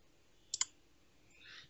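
Two quick, faint computer mouse clicks in close succession sound against a quiet background, with a soft rustle afterward.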